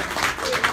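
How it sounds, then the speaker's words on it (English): An audience claps during a live bookstore appearance at Barnes & Noble: a short, steady wash of many hands applauding together, fairly close and full. "So I want to give them a round of applause"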